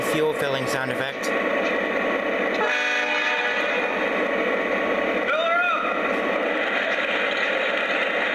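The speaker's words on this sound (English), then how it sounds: "Alright, I'll play the fuel filling sound effect." A C44-9W locomotive in a video game plays its fuel filling effect, a steady loud broadband rushing hiss that runs continuously for several seconds after a brief clattering start.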